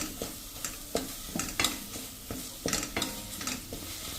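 Oil-free tomato masala is stirred and roasted in a pan after a spoonful of water is added; a spoon scrapes the pan in repeated, uneven strokes over a soft, steady sizzle, with no talking.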